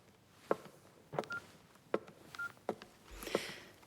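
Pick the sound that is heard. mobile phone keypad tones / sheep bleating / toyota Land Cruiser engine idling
mobile phone keypad tones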